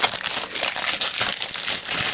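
Crinkly plastic packaging around a set of Diamond Press dies is torn and rustled open close by, a steady stretch of crackling and crumpling with no voice.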